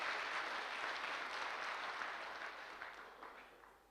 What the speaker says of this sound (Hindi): सर के लिए, उनके लिए, उस प्रोफेशन के लिए भी जबरदस्त वाली ताली।